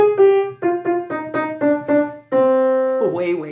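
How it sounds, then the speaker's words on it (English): Twinkle Twinkle Little Star picked out note by note on piano in a sad minor key, ending on a held note with brief noise. "Same melody in minor."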